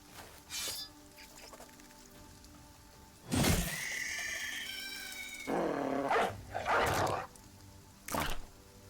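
A dog barks in the medieval tactics game Battle Brothers, a few sharp, loud barks and harsh yelps spread out over several seconds, with quiet gaps between them and no talking.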